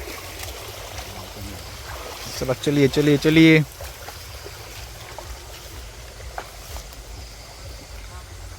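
A stream of water from the first monsoon rain runs steadily over the ground in the Konkan, giving an even, rushing flow with light trickles. A man calls out briefly partway through.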